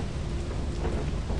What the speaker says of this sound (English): Alright, we got rain.